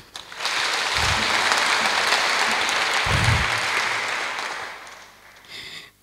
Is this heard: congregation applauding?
yes